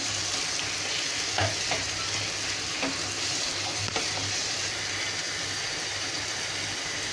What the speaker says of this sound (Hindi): अभी इसको अच्छे से भूनेंगे खुशबू आने तक मसाले को